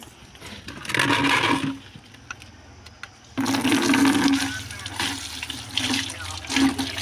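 Running water splashes over freshly harvested radishes as they are washed, in two loud bursts from a tap with a short pause between, close and vigorous.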